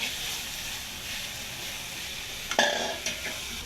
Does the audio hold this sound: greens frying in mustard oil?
yes